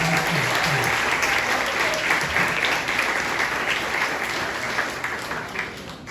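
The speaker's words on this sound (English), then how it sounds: "a round of applause for all of" Sustained applause from a conference audience at the NACA Northeast Awards, a dense steady wash of many hands clapping, fading slightly toward the end.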